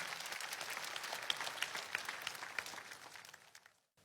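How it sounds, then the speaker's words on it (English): Congregation applause at a church gathering, a fairly faint, even patter of many hands clapping with a few sharper claps standing out before it cuts off abruptly. "Shall we clap for wonderful Jesus Christ?"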